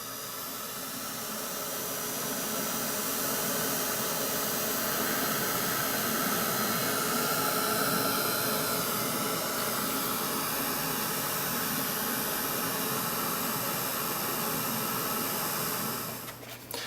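Steady, loud hissing rush of a heat tool blowing hot air over embossing powder on stamped poppies for an art journal page, continuous and unbroken for most of the time before cutting off abruptly.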